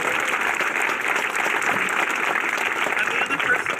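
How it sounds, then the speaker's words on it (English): A music camp crowd gives a dense, sustained round of applause for the camp nurse, an even, continuous wash of clapping that holds steady throughout without a break. "please give a huge round of applause to Ms."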